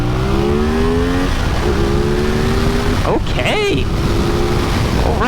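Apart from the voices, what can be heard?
CF Moto 450SS motorcycle taking off, accelerating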